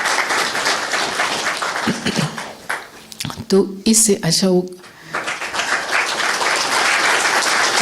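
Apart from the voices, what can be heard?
audience applause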